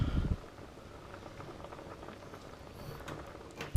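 Tiger nuts bubbling in a pot of water on a stove, a steady soft rolling boil with dense patter throughout, opening with a brief low thump.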